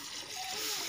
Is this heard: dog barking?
no